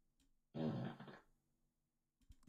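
A smart speaker's novelty skill plays a fart sound effect, one loud, low, buzzing blast lasting about half a second and trailing off, followed by faint murmurs afterward.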